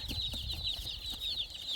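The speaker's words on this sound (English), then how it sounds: "you'll see we've got 60 chickens in here" A dense chorus of high-pitched peeping from about 60 meat-bird chicks in a shipping box, continuous and close, with soft rustling and bumping underneath.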